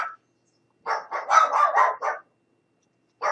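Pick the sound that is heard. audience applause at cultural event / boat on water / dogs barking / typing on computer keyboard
dogs barking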